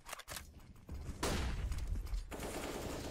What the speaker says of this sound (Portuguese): Os tiros vão rolando por ali, os jogadores sendo eliminados.